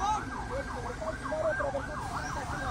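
A fire engine siren wails in rapid, repeating up-and-down sweeps at a street fire in Romania, heard at moderate distance under steady road noise.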